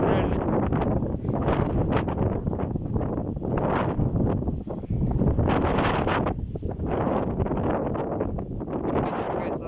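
Storm wind tearing across an open field in gusts of about 23 metres per second, a loud continuous roar buffeting the microphone with surging peaks throughout.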